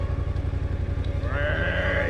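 An adventure motorcycle rumbles nearby with a steady, pulsing engine throb, joined later by a higher rising whine and a faint, brief voice-like sound over it.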